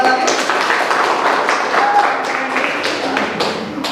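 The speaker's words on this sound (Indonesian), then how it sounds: "tepuk tangan lagi" A classroom of students applauding a presenting group, a steady patter of claps that holds without pause and fades slightly toward the end.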